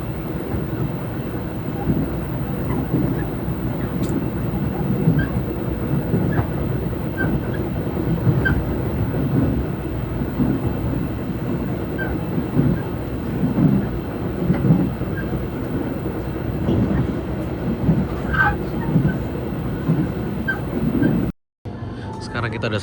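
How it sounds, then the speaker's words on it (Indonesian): Gajayana passenger train running on rails past Madiun, heard from inside the carriage: a steady low rumble with rhythmic clickety-clack of the wheels throughout, and a voice talking briefly over it. "Ini kan keretanya lepas Madiun."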